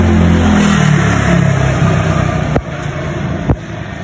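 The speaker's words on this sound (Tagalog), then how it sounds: "Teka lang, may motor." A motorcycle engine passes nearby with a droning, revving hum that shifts in pitch and then fades. Two sharp clicks follow near the end.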